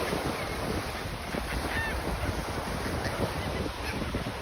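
Seagulls calling on a Gulf shore, a few thin cries rising over a steady wash of surf and wind rumble, the birds fairly faint against the constant background.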